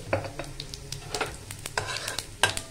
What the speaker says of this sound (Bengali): ওই তেলের মধ্যেই আমি একটু জিরে দিয়ে দেব